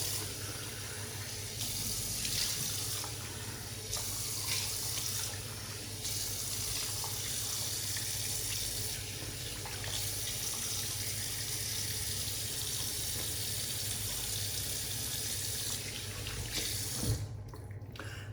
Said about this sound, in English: Let me rinse the face.